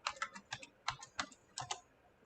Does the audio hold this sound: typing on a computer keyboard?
yes